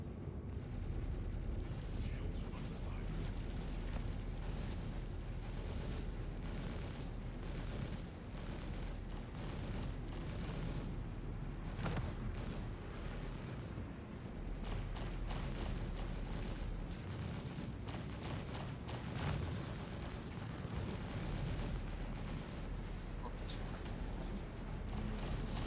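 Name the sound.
missiles fired and exploding in the video game Star Citizen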